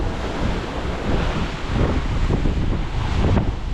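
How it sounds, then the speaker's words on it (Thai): Ocean waves striking a boat's left side at sea, diagonal from ahead, a continuous rushing wash with surges and splashes, close and loud, buffeted by wind on the microphone. "คลื่นมาจาก กาบซ้ายเรือนะครับ เฉียงมาจากข้างหน้าตรงนั้น"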